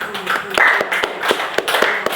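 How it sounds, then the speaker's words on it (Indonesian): Schoolchildren in a classroom clap for classmates during a lesson, a loose, uneven patter of hands at close range, mixed with voices talking over it. "Tepuk tangan untuk"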